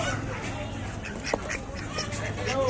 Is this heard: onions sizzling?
no